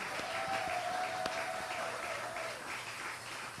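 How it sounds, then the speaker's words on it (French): A church congregation applauds at a French-language service, a steady wash of many hands clapping, moderately distant and even throughout. "On peut applaudir."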